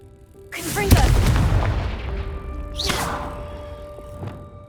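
A Confringo blasting curse goes off in a Harry Potter video game as a loud booming explosion with a whooshing burst, then a second softer blast and rumbling tail a couple of seconds later, with a voice briefly over it.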